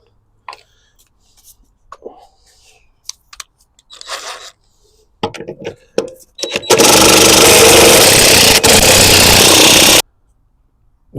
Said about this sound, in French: La perceuse à choc